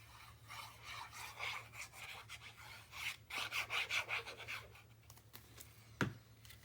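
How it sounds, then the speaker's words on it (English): Paper being trimmed to fit a page of a 9 x 8.5 mini album, with soft close rubbing and scraping strokes and a few brief sharper taps, quiet and alone over a low steady hum. "And then I just simply trim to fit this piece here."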